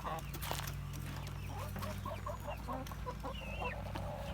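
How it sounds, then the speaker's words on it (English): Chickens cluck in a series of short, close calls over a low constant background hum, with faint other noises around them. "Can't leave out the chickens."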